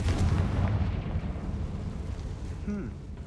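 A Confringo blasting spell going off in the Hogwarts Legacy video game: a deep, rumbling explosive boom with a crackling tail, followed by a brief rising magical whoosh near the end.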